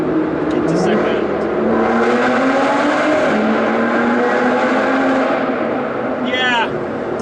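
An Aston Martin V12 Vanquish S engine booms through a tunnel as it is dropped down through the gears into third and second, throttle blips rising and falling in a loud, continuous, echoing roar.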